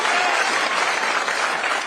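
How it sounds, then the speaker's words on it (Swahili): Dense, loud applause from a crowd at a political gathering in Nairobi, greeting Mithika, a candidate in a wheelchair, sustained evenly throughout. "Mpigeni makofi huyu muungano anaitwa Mithika."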